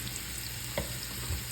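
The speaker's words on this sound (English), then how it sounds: "I'm gonna go ahead and add the garlic in there, minced garlic" Minced garlic fries in olive oil in a pan, a quiet, steady sizzle with a brief scrape of stirring.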